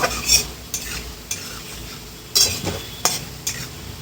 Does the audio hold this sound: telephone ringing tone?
no